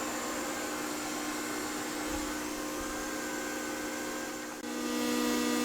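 A budget TIG welder running at 160 amps on 3/8 inch steel gives a steady, loud, close buzzing hiss that holds evenly, with one brief dip near the end and no talk.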